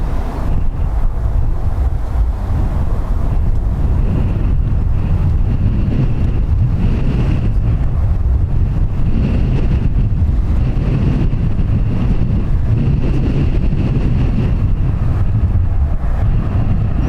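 Strong crosswind gusting at Dublin Airport, a loud, continuous roar of wind buffeting the microphone with rising and falling surges throughout, no voices.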